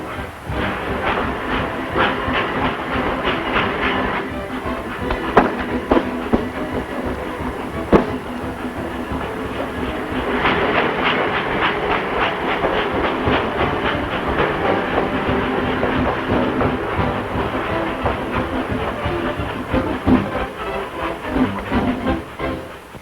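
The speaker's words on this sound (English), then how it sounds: "The train! The train!" A train rolls along the rails in a 1930s Western setting, with steady, continuous clatter and hiss that carries on throughout, rising in density partway through, plus a few sharp clanks.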